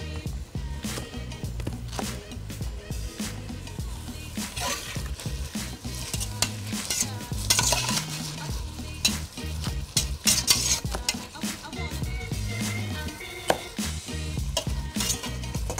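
Tomato pieces simmer and sizzle in a pan with chili, salt and spices while a utensil stirs and scrapes repeatedly, with occasional clinks of cookware over a steady frying hiss.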